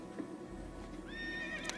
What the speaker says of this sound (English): I'll get my horse.